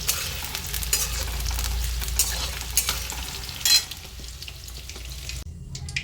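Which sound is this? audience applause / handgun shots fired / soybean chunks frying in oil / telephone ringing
soybean chunks frying in oil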